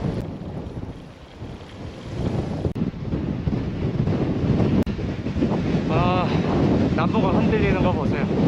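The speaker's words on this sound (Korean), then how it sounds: "옆에서 바람이 엄청 부네요" Strong gusty wind buffets the microphone during a riverside bicycle ride along the Seomjin River, a loud continuous roaring rush, with a voice talking faintly beneath it toward the end.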